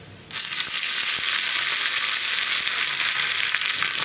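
Peppercorns, small-cut dried red chillies and curry leaves fry for tempering a green gram and pumpkin curry, a loud steady hiss of hot oil starting abruptly and holding unbroken to the end, with no talking.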